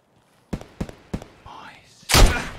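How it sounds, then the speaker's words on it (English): Three sharp gunshots in the video game Escape From Tarkov ring out in quick succession, followed by a brief rushing sound and a louder burst at the end. "Just fire three bullets if you're listening."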